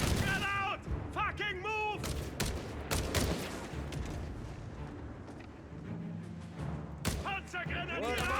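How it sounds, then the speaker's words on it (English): Two .30 cal machine guns rattle in Company of Heroes 3, with bursts of gunfire and explosions layered over a dense battlefield din, while voices talk over the action. "Got 2 30 cal machines laying down heavy fire here."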